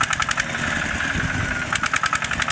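A farm tractor engine idles close by, a steady rough rumble broken by quick rhythmic knocking pulses at the start and end.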